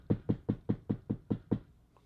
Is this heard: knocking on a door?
yes